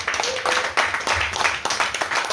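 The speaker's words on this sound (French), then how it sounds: "On peut les applaudir." A conference audience applauds the hosts with brisk clapping in a few loose surges, fairly close and lively, with faint murmuring underneath.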